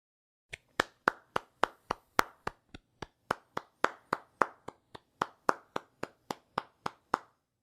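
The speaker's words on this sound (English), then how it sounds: "That's my applause." A single person claps alone during a home Oscar-night viewing party, about twenty sharp, close hand claps at a steady, even pace with no other sound around them.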